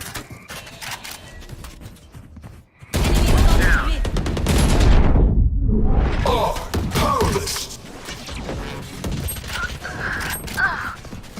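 In the tactical shooter Valorant, bursts of rapid gunfire and explosive thuds erupt after a brief quiet, then dense firing and mechanical clatter continue with swelling and fading whooshes, under occasional voice.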